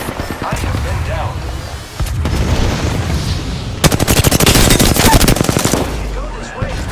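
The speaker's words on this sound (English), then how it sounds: "I am taking fire, friends." Gunfire in the video game Apex Legends builds into a loud, sustained burst of rapid automatic shots over steady battle noise, with brief game voice lines in between.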